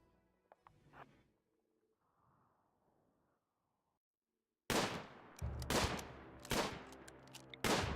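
Gunfire in RimWorld as colonists shoot at four melee Neanderthal attackers: after a quiet stretch with faint soft noises, a loud run of close, sharp shots breaks out in rapid irregular bursts.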